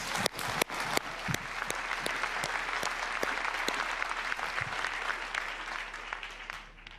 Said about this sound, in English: Let's give Nick a big round of applause